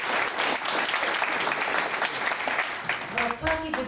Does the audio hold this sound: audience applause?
yes